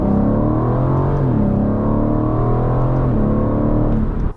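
A 2023 Aston Martin Vantage's hand-built V8 engine runs loud and close, a deep steady drone whose pitch climbs and dips through a couple of shifts before cutting off abruptly.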